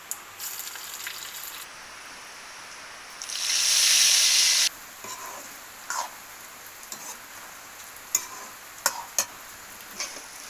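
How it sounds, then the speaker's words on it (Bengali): Cumin and onion hit hot oil for a pumpkin ghonto, bursting into a loud close sizzle for about a second, followed by softer stirring scrapes and scattered pops in the pan. "প্রথম দিলাম জিরে তেলের ওপর দেবো পেঁয়াজ দেবো"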